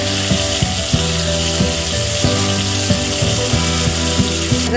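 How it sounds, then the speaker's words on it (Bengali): Garlic frying in hot oil in a pan after hilsa fish, a loud continuous sizzle with crackling pops and scraping clicks throughout. "তেলের ভিতরে আমি একটু রসুন ভেজে"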